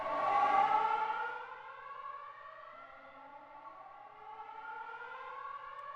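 A storm siren from the video game Pacific Drive wails in a long rising then sustained tone, slightly distant and wavering, fading gradually with no talking.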